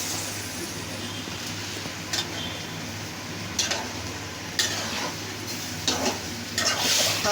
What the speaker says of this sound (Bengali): এখন আমি কচু ছড়া দিয়ে দিব